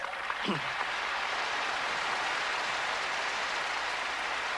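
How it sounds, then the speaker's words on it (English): Huge crowd at a 1989 convention in Poland giving prolonged, steady applause, a broad even wash of clapping heard from a distance and sustained throughout. "There was prolonged applause"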